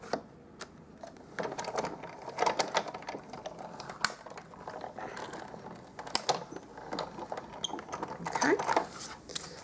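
A Big Shot die-cutting machine cranks cardstock through its rollers, a run of uneven clicks and ratcheting knocks spread across several seconds, close by, with a brief spoken word.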